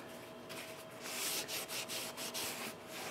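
The bottom of a painted cast iron pump is scrubbed gently with a mild abrasive: close, rhythmic rubbing strokes with a dry, rasping texture, a steady back-and-forth scrub with no talking.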